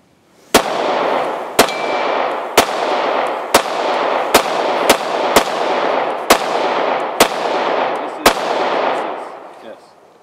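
A Glock 26 Gen 4 9mm pistol fires ten loud, sharp shots at a steady pace about one second apart, each followed by a short ringing echo.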